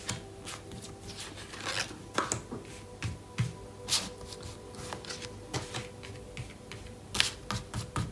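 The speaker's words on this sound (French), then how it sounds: "on va couper les cartes, on va en placer 4, et on va les recouvrir une fois et encore une fois" Playing cards being cut, shuffled and laid out for a card reading, a run of soft close-up flicks, snaps and taps at irregular intervals, quiet, with no talk.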